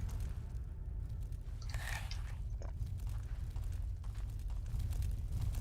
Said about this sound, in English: I can hear fire